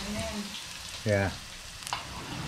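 Spinach fries in a pan with a soft, continuous sizzle heard close, briefly interrupted by a short voice and a small clatter.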